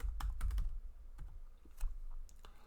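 Quiet bursts of computer keyboard typing, a quick cluster of keystrokes followed by a pause and a few more clicks, close and soft with no talk.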